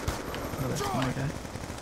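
Gunfire in the shooter game Call of Duty: Black Ops 2: a steady stream of game shots and bursts runs throughout with a low engine-like drone, fairly loud and continuous, while a voice talks over it.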